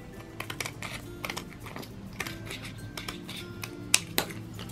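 Scissors cut along a strip of clear plastic packaging from dollar store gems, giving a run of small dry snips and clicks with a couple of sharper snaps near the end, close and quiet with no talk.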